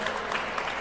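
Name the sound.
audience applause for Alissa Wahid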